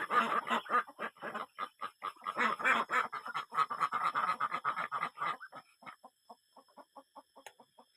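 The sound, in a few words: ducks quacking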